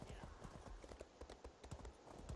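Horse hooves clip-clop at a steady trot in the video game Elder Scrolls Online, a soft rhythmic series of low thuds beneath faint game ambience.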